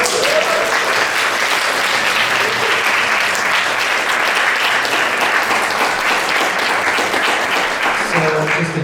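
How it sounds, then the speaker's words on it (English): A lecture audience at an evening salon gives a loud, sustained round of applause that fills the whole stretch without letup. "Yes, a round of applause."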